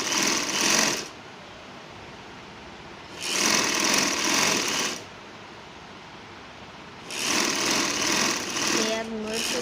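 A sewing machine stitches a kurti sleeve in three loud, close bursts of rapid whirring, each lasting about two seconds, with quieter pauses between them.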